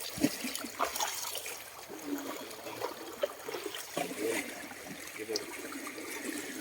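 River water trickles and burbles steadily nearby, a soft continuous flow with faint splashes, fairly quiet throughout.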